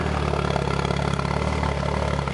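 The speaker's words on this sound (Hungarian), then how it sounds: "megjavítva a motor, most már szebben jár." A repaired BMW E36 car engine runs steadily at a smooth, even idle, heard close and loud as a continuous low hum with faint mechanical clatter.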